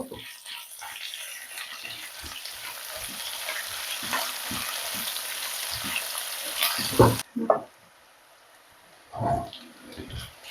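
Onions frying in oil over medium heat for a mutton curry, a continuous close sizzle broken by stirring scrapes, then briefly cutting out before another stir near the end.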